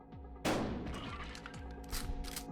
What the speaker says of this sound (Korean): 돋보기로 총알 확인해주고 바로 쏴줍니다